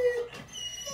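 Pet dogs indoors in winter, restless and wanting to go outside, let out a soft, close whine that rises and wavers over about a second with no talking.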